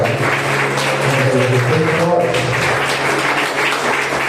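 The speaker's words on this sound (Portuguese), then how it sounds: "Diga graças a Deus e aplauda." A church congregation applauds during a Communion service, a steady wash of clapping that fills the space, with low sustained organ or keyboard tones running beneath it.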